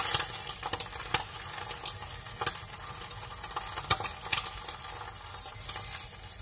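Egg frying sunny side up in a pan, a close, steady sizzle dotted with sharp crackles and occasional scraping stirs, with no talking.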